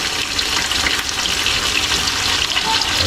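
Garlic, onion and ginger sautéing in a pan, giving a steady, close hiss and crackle of frying that continues without a break.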